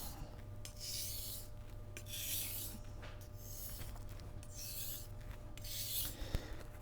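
Petty knife blade being drawn across a whetstone, a steady series of gritty, raspy strokes repeating about once a second, close and continuous with no talking.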